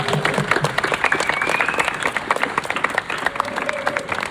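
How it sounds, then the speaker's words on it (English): An audience at an artist conversation event breaks into sustained applause for a team, a dense wash of many hands clapping with crowd murmur and faint voices underneath. "They should get a round of applause."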